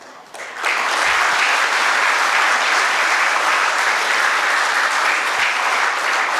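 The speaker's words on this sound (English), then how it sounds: "you are clapping for yourself" Sustained applause from a large audience at an MBA and BBA inauguration ceremony, loud and steady after a brief quieter start, continuing without pause.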